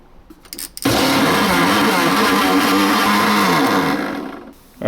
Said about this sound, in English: now I'll chuck this on the blender